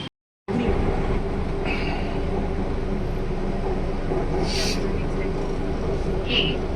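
A metro train runs with a steady loud rumble and rattle heard from inside the carriage on a commute home from the office, after a brief silence at the start, with muffled voices faintly in the background.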